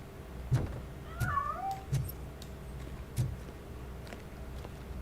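A cat meowing inside a building in RoboCop: Rogue City, a couple of short mid-distance meows with soft low thumps and background ambience, no talking.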